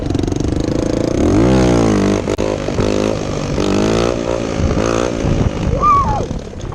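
An enduro motorcycle engine revs hard and close, its pitch climbing and dropping repeatedly in surges as the rider tries to pull wheelies, loud and continuous throughout.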